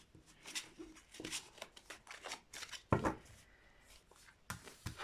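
Crisp papery flicks and slides of slippery tarot cards being handled, a series of short rustles and snaps with one louder slap near the middle, fairly close.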